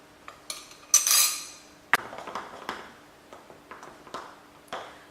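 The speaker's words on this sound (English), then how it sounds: "I'm going to put my cocoa powder into the pink bowl and give it a good mix." A spoon clinks and scrapes against a bowl while cocoa powder is mixed into a cake filling, with irregular light taps and clatters close by, quiet and without talk.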